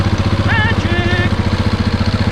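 A Husqvarna 701 motorcycle engine runs close and loud at a fast, steady idle with an even pulsing beat, while a brief whistle-like tone rises over it early on.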